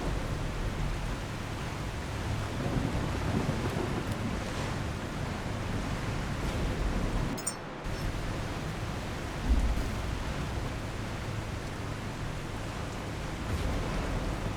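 Thunderstorm in The Last Caretaker video game: a continuous roar of heavy rain and wind, with low rumbling swells, a brief dip in the middle and a deeper thunder thump just after, no speech.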